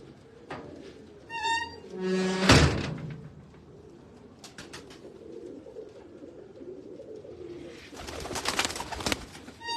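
Large breeder pigeons coo intermittently at a middle distance, with a few sharp clattering bursts and scraping sounds breaking in between the calls.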